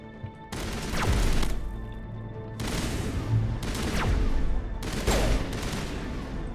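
Gunfire in the video game Mass Effect 1 arrives in three separate sustained bursts of rattling shots, each with a sharp onset, fairly loud over a low background.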